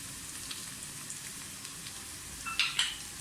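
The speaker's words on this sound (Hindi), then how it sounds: "प्याज हमारी फ्राई हो रही है" Onions frying in oil with whole spices added, a soft, steady low sizzle with a couple of sharper crackles and pops near the end.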